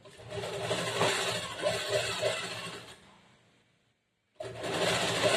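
A sewing machine stitches a plain blouse neck beside canvas facing, a steady close whirring run that slows and stops briefly before the machine starts up again at full speed.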